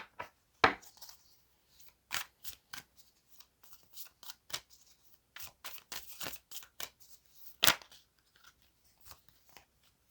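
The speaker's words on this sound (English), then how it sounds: "All decks have been pre-shuffled, but I do like to shuffle here on camera as well." A deck of cards being shuffled by hand, quiet riffles and sharp snaps coming in short irregular bursts, close and faint with near silence between them.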